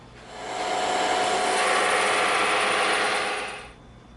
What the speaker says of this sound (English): So we're going to use the bandsaw.